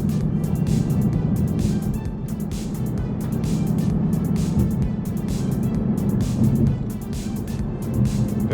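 A car driving along Las Vegas streets, with a steady engine and road rumble close by and a constant low drone throughout, alone.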